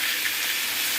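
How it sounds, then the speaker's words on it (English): Meat frying and browning in a hot pan, a steady dense sizzle with a constant broadband hiss that holds evenly through the whole second, close and fairly loud with no voices. "we are going to fry up this meat and brown it and make sure that it really does get browned"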